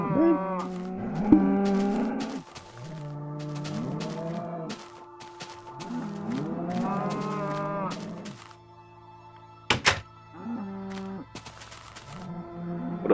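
Minecraft cows give out a series of low, drawn-out moos in clusters, loud and close with short pauses between calls, plus a sharp click or hit sound midway.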